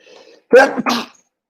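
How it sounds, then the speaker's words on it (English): A single sneeze bursts out after a faint murmur, a sharp intake followed by a loud explosive release, close and brief. "oh, I'm going to sneeze."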